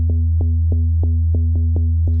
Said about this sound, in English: So a nice little sine wave.